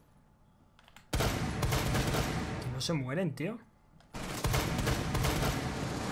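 Gunfire in the video game Rainbow Six Siege, two long sustained bursts of rapid automatic shots, loud and close, separated by a short gap where someone speaks.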